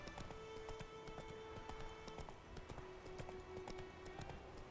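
Roach the horse galloping in The Witcher 3, a video game: steady, quiet rhythmic hoofbeats clopping throughout with faint ambient tones behind them.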